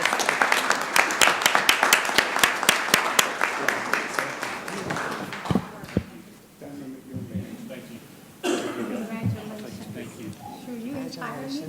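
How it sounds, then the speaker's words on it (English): A round of applause at a city council meeting in Columbus, Georgia: several seconds of steady, fairly close clapping that fades out, followed by people talking and congratulating. "Let's give them a round of applause"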